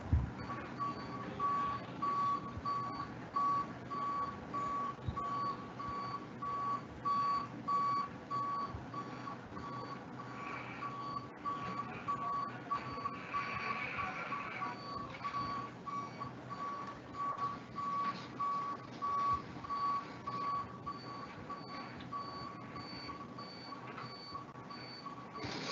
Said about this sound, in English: Just a video to show an application of a reach truck